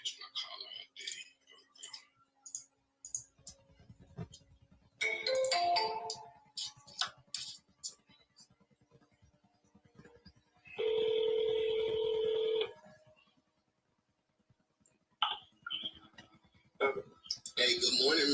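A phone dialing an outgoing call from a real estate office, with rapid keypad tones, a long steady ringback tone and then a second burst of tones, faint and close, with someone talking quietly between them.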